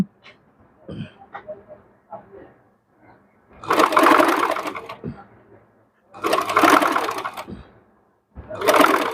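Sewing machine stitching piping fabric onto a dress neckline, running in three bursts of whirring stitching separated by quieter pauses with small handling sounds.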